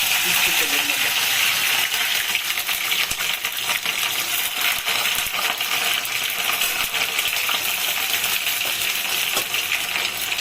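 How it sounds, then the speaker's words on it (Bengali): Capsicum pieces fry in hot oil with whole cumin tempering, giving a loud, steady sizzle that runs unbroken from start to finish. "আর দেব গোটা জিরা ফোড়নে কিছু কুচানো ক্যাপসিকামের টুকরো"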